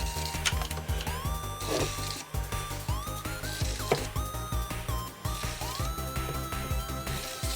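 A Commodore Amiga JU-253 floppy drive seeks its head repeatedly, producing close, rhythmic mechanical clicks and ratcheting buzzes with rising whirring tones throughout, loud and alone.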